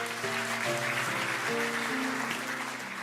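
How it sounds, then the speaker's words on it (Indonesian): A church congregation claps during a sermon, a soft, steady patter of applause under sustained organ or keyboard chords that carry a slow-moving melody. "Kasih tepuk tangan untuk Tuhan Yesus."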